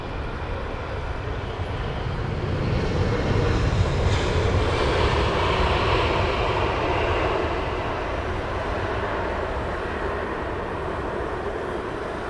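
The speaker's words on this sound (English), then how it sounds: "Virgin 787 inbound from Lahore." A Virgin Boeing 787 inbound from Lahore lands at Heathrow, its jet roar steady and broad, swelling slightly in the middle and holding at a moderate distance throughout.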